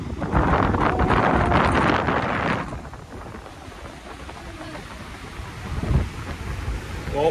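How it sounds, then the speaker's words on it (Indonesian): Strong wind buffets the microphone at the top of Drini island on a beach in Gunung Kidul, Yogyakarta, a loud roaring rush for the first few seconds that eases into a steadier, quieter blustering with a brief gust near the end. "Anginnya gokil."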